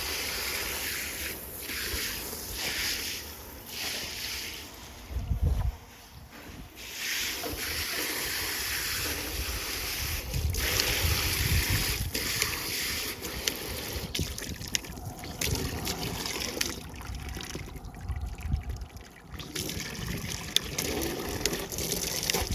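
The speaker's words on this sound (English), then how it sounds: "Goldie, I'm about to fill up your water tank, okay?" Water gushes steadily into a water tank for a dog named Goldie, a continuous rushing, splashing flow lasting the whole stretch with small shifts in intensity and no talking.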